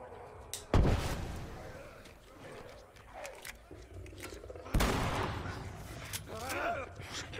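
Shotgun blasts in The Last of Us Remastered, two loud, sharp booms about four seconds apart, each followed by a rumbling tail, over a dense game soundscape with growling sounds.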